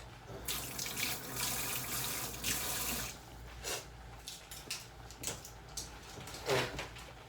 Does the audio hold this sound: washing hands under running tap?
yes